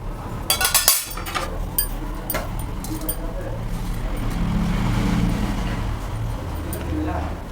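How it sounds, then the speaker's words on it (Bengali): A spoon mixes malai patisapta batter sweetened with sugar in a bowl, starting with a few sharp clinks against the bowl and then settling into a soft, steady scraping swirl. "এবার মিশিয়ে নেব।"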